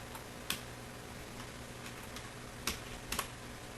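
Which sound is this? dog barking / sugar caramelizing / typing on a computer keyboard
typing on a computer keyboard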